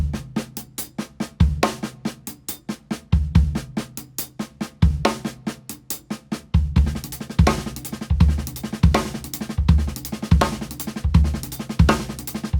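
A drum kit lick played on snare, hi-hats and kick, first as fast tight hi-hat strokes with kick hits, then with sharp repeated snare accents, close and loud in a steady rhythm, no voices.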